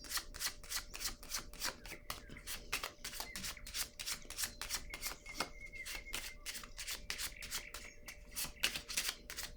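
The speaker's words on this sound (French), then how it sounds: "Je vais déposer une carte ici pour cette zone." Tarot-style cards are shuffled in quick, crisp riffles, a steady string of sharp papery flicks, close and fairly quiet, with no talk over them.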